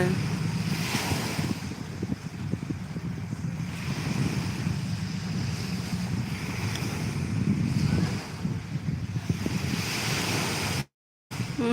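Sea surf rolls steadily onto Saeng Chan beach while a cool wind rushes across the microphone, a continuous close wash of waves and gusts with a brief dropout near the end.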